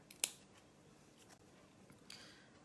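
Scissors snip through white felt in a few quick, close, faint cuts, a sharp crisp snip followed by softer clicks, with quiet room tone between.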